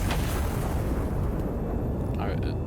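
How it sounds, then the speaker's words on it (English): An artillery gun launches a shell in the IRON NEST video game, a dense, booming roar that fills the whole moment while a voice talks over it. "So we can arm the gun now. And launch."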